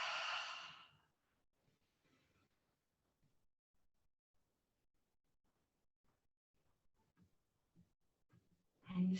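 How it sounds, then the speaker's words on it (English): During a vinyasa yoga flow, a close, soft deep breath is let out as a long airy exhale, followed by quiet faint rustles and then a sharp new inhale at the end. "And breathe."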